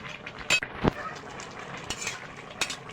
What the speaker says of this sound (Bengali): আমি তরকারিতে এবার মাছগুলো দিয়ে দেব একটু নাড়িয়ে দেবো